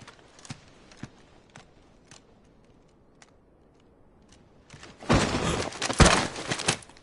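A steed's hooves in Final Fantasy XVI give a few sparse, soft clops and thuds, followed by a louder rush of scraping, clattering movement near the end.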